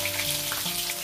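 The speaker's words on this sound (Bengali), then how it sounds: "আমি দুটো করে ভেজে নিচ্ছি।" Bele fish sizzling and frying in hot oil, two pieces at a time, a steady close crackle with faint stirring sounds and no voices.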